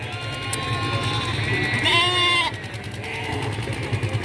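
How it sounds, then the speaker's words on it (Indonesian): Sheep bleat while being dragged along by a man at a livestock market, a wavering bleat rising above a constant din of crowd chatter and engine hum, close and fairly loud. "ini di depan saya ada bapak-bapak yang lagi geret-geret domba ini teman-teman"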